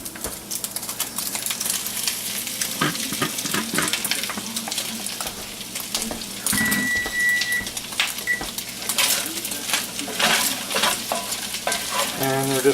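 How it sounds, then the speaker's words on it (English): Potatoes and onions frying with browned sausage in a pan, a steady close sizzle with scraping and stirring clatter all through, loud and without talk. "now we're going to add in our potatoes and onions"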